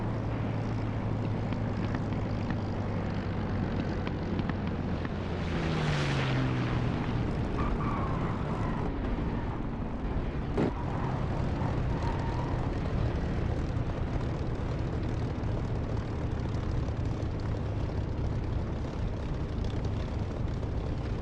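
A fixed-wing aircraft in the DCS flight simulator rumbles through a landing, a steady loud engine drone with a pitch sweep and a sharp thump partway through, no talk.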